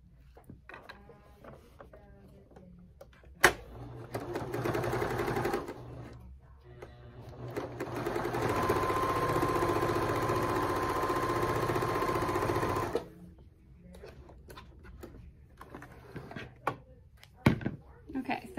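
A sewing machine stitches straight across the top of a quilted Christmas stocking cut from a vintage quilt, running in a steady mechanical whir for about five seconds, then again for a longer stretch, with softer handling clatter between runs.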